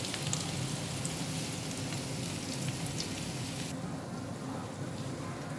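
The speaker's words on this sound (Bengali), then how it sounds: "এবার আমি একটু বেরেস্তা ভেজে তুলে রাখবো।" Sliced onions (beresta) for biryani fry in oil in a wok with a steady, even sizzle and crackle that continues throughout at a moderate level.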